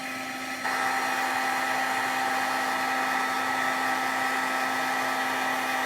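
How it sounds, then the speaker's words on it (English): A heat tool used for embossing a stamped card switches on after a brief pause and then blows with a loud, steady, high-pitched whine and rushing air that continues unbroken. "it's gonna get just a little bit noisy while I turn on my heat tool here"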